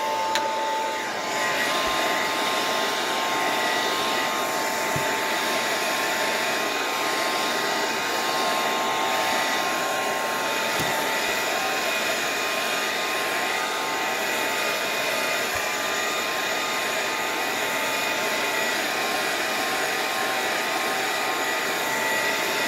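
A handheld dryer blows steadily to dry splattered white paint in an art journal, a continuous whirring drone that stays even and close for the whole stretch with no talking.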